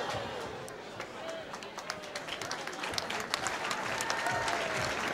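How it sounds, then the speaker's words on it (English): An arena crowd at a professional boxing match applauds after the final bell, a broad wash of clapping and cheering mixed with commentary talk, steady and moderately loud throughout. "The crowd gives him a nice round of applause."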